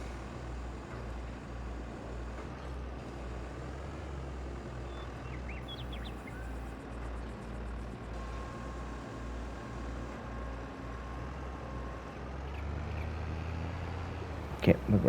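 A tractor engine in a farming video game gives a low, steady, rhythmically pulsing drone at moderate level, with faint bird chirps above it and a slight rise in the final seconds.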